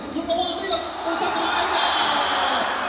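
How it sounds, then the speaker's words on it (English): Football crowd in a stadium in Zhaoqing at an international match involving Brazil, a broad steady roar of cheering voices with a few whoops, heard beneath close commentary talk. "Crowd's going wild."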